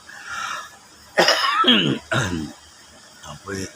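Several harsh, throaty coughs close up, in short bursts separated by brief pauses, with a quieter cough at the end.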